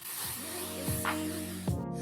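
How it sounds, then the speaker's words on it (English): BioSilk hair spray is misted onto wig curls in a few short hissing bursts from close by, over a steady background of music. "I'm gonna spray these curls with this BioSilk because I'm going out and I don't want these to drop."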